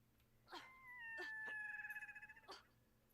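A bird in the video game Brothers gives a dog-like call: a drawn-out whining, wavering cry that breaks into a rapid trembling warble, bracketed by short sharp yelps and heard fairly close over quiet background ambience.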